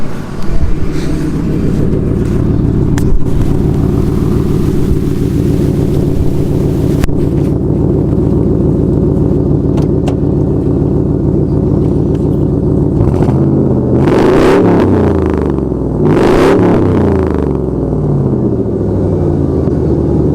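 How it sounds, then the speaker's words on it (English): A car on a test drive after a spark plug change, its engine a steady rumbling drone throughout with wind noise, swelling briefly in a couple of louder surges near the end, no talk. "So I'm gonna take it for a test drive."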